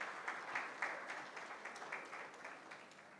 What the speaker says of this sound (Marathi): एकदा जोरदार टाळ्या त्यांच्यासाठी झाल्या पाहिजे.